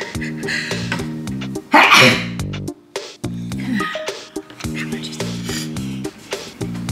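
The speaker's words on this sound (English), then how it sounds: "I'm gonna sneeze." A single loud sneeze bursts out near the microphone over steady background music with a repeating rhythmic pattern.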